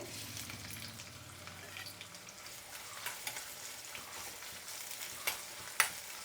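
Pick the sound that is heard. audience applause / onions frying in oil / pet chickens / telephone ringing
onions frying in oil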